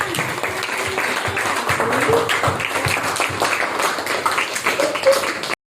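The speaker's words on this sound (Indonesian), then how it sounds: "Beri aplaus buat kita semua." A classroom of students applauds together after an Indonesian history lesson on Hindu-Buddhist kingdoms, a steady mass of clapping that runs the whole time with some voices mixed in.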